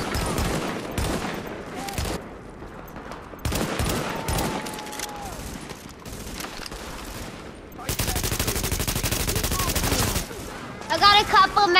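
Assault rifle gunfire in the video game The Division crackles in dense bursts, with a long sustained automatic burst near the end, mixed with game sound effects and some voices.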